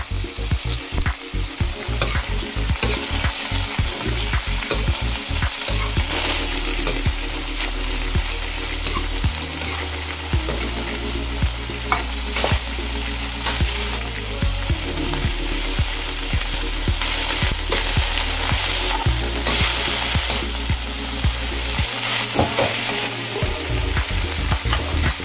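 Ingredients are stirred and fried in a pan, a loud continuous sizzle with constant rattling, scraping spatula strokes throughout.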